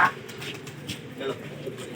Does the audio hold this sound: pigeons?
yes